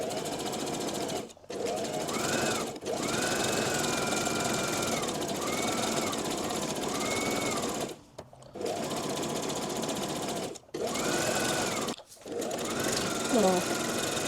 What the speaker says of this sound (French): Comme je n'ai pas de surjeteuse, je vais surfiler à la machine à coudre.